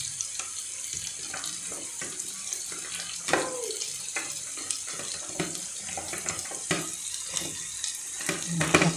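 Mushrooms and courgette sauté in a pan for a spaghetti sauce, a steady hiss of frying under scattered scrapes and knocks of a stirring utensil, close and moderate.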